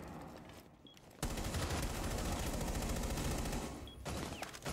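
Rapid automatic gunfire rattles through a video game shootout, a loud continuous burst of about three seconds after a quieter lead-in, cutting off abruptly before a few trailing shots.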